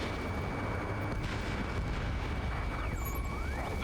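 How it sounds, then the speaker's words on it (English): Dense battlefield noise from the video game Ace Combat 7 in a city under martial law, a continuous roaring wash of gunfire, explosions and jet engine rumble that stays loud and unbroken throughout. "Gunfire and the roar of jets echoing through the streets."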